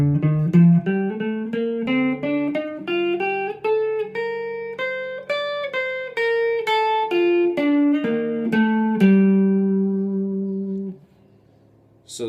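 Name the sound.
guitar playing Dorian scale mixed with a descending arpeggio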